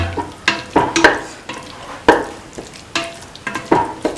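Garam masala spice mix being stirred into a beef, tomato and coconut milk stew, a spoon scraping and clanking through the thick mixture in repeated close strokes over a soft sizzle.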